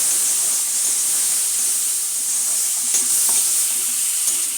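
A hot pan of spices with water just added, giving a steady, loud sizzling hiss with faint scraping from stirring, for a Kashmiri-style mung dal with winter vegetables.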